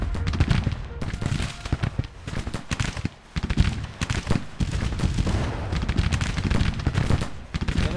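Musket and rifle fire in a Civil War battle video game at Munfordville, with dense overlapping shots and crackling volleys mixed with cavalry hooves, loud and continuous throughout with a short lull near the middle.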